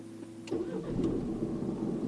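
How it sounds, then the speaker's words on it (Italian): A Nissan Qashqai J11 engine is started with the push button: a quiet click, then the starter catches and the engine settles into a steady, close idle hum. "andiamo a cliccare sul pulsantino di accensione in questa maniera"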